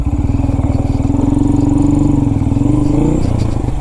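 A Honda Grom motorcycle ridden up close, its small engine putting out a loud, steady pulsing putter with an even rapid rhythm that dips slightly near the end.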